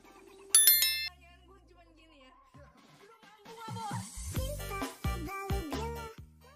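Notification bell sound effect for a subscribe reminder: a bright, bicycle-bell-like ding that rings out once near the start, then gives way to louder mixed electronic tones and effects.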